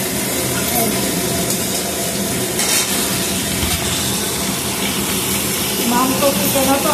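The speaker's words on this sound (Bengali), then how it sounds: "এখানে কচুটা একটু ভেজে নেব, নুন আর হলুদ দিয়ে অল্প।" Taro pieces fry in oil with salt and turmeric, giving a loud, steady sizzle with stirring scrapes throughout and faint background voices.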